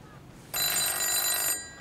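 Telephone ringing in a home, a single bright electronic ring burst lasting about a second, loud and close, then cutting off into quiet room tone.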